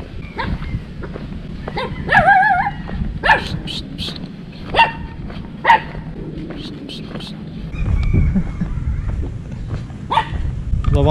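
A tiny dog in a Turkish village gives a few sharp yips and whimpers close by, scattered over steady background rumble while someone talks.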